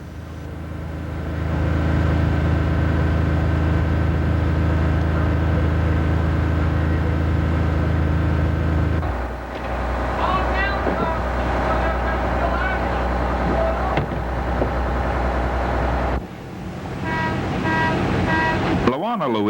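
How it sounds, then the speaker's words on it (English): A shrimp boat's 12-cylinder diesel engine rumbles steadily with strong low harmonics as the vessel gets underway, the drone shifting pitch and character partway through, with faint higher tonal noises layered above. "Luisa is powered with a 12-cylinder diesel engine which delivers 360 continuous horsepower"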